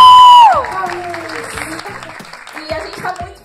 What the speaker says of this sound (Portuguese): Então, palmas pra vocês